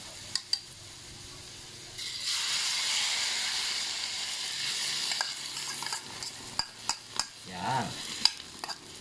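An egg is added to a hot frying pan. A loud hiss and sizzle flares up after a couple of sharp taps and holds for several seconds. It then fades into a series of close clacking utensil knocks and scrapes.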